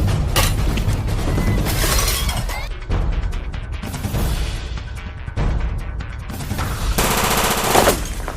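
Gunshots ring out in a Jamaican action film scene, dense bursts of rapid firing and sharp cracks packed together, loud and close, with brief gaps between volleys.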